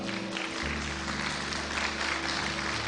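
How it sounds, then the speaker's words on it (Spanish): Church congregation applauding during a sermon, a steady even wash of clapping from many hands held at a moderate level, with a low hum underneath. "Dele un aplauso al Señor."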